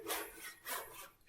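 A tenon saw cuts along the long grain of a wooden piece, making rough rasping strokes with a back-and-forth rhythm, two or three pushes heard up close with no talking.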